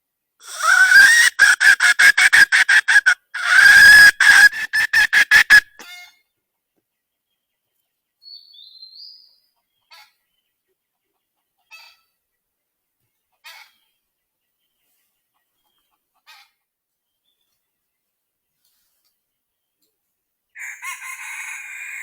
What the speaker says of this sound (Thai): ไก่ป่ากันตอบเลยทุกคนไก่ป่ากันตอบแล้ว